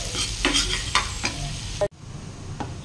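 Garlic frying in butter in a pan for Bicol-style butter shrimp, a steady close sizzle with scraping stir strokes, then a sudden drop to a quieter hiss near the end.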